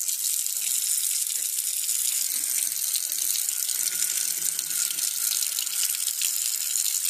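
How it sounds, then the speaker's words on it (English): Hot water runs steadily from a tap over a tea infuser shaped like a Christmas tree, a loud, even splashing rush of water that continues unbroken throughout with no talk over it. "if you run it under hot water, it does this weird thing"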